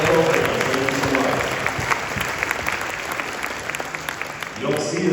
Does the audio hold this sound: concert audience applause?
yes